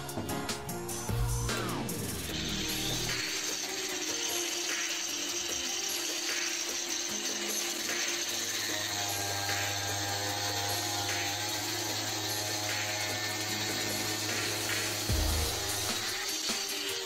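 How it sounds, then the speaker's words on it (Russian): A loud angle grinder whines steadily as it cuts metal, with a harsh high-pitched screech and a low motor drone running throughout. "Резать я ее буду болгаркой."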